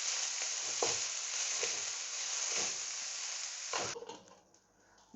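Onions and chillies fry in a pan with a steady, close sizzle and soft crackle for about four seconds, then the sizzling drops away to a quieter, patchy hiss with faint clatter.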